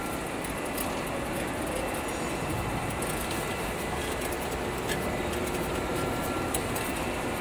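An industrial machine with belts, brushes and feed-in and feed-out sections runs continuously after its start button is pressed, giving a steady, loud mechanical drone and hiss with no breaks.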